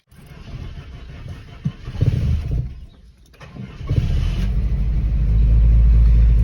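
Volkswagen Golf 2 petrol engine cranking and catching, then settling into a steady low idle rumble that grows louder and fuller toward the end, heard close with no talk.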